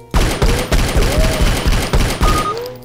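Rapid repeated gunshots from a game pistol in the Doom 2 mod Project MSX, about nine punchy close shots in a steady rhythm, each followed by a faint ringing tail.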